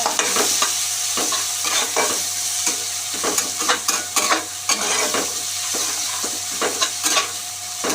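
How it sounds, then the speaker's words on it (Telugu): Onions, seasoned with turmeric and salt, fry in a pan for cauliflower masala curry, sizzling steadily as a spatula scrapes and stirs in a regular rhythm, with a low hum beneath. "ఇలా ఆనియన్స్ ఫ్రై అయిపోయినాయి కదా"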